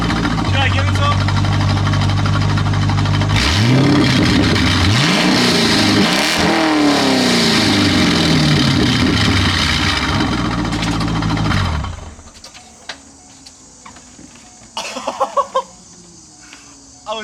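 A car engine with no exhaust fitted revs hard in several loud, rising and falling bursts over a raw idle, very close and harsh, then cuts off abruptly, leaving quiet background with a few short knocks and voices.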